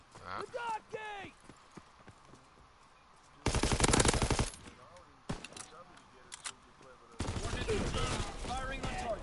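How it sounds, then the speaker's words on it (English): Bursts of automatic gunfire from a PS4 military shooter game, two long sustained volleys with scattered single shots between them, loud and close, mixed with game radio chatter and a voice talking. "Firing on target."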